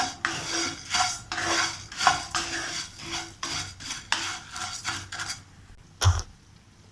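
Red poha (aval) dry roasting in a pan, stirred in repeated rhythmic rasping scrapes of a spatula against the metal, ending in quiet with one sharp clank.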